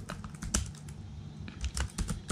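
Typing on a computer keyboard: rapid, close key clicks in an uneven rhythm over a low hum, with a short pause in the middle.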